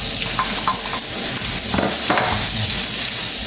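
Garlic and onion sautéing in hot oil in a pan for ginataang manok, a loud, steady, close sizzle with a few stirring scrapes and no talk.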